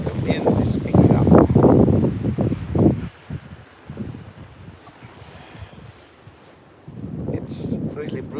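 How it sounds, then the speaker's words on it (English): Strong gusts of wind buffet the microphone during a New York snowfall. The roar is loud at first, eases into a lower rumble, then surges again. A person speaks briefly over the wind. "Oh, the wind is picking up."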